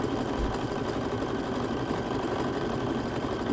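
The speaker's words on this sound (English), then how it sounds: "I'm just putting the zigzag all the way down." A sewing machine runs continuously, zigzag stitching down the edge of an apron, a steady close whirring hum with a fast mechanical chatter and no talking.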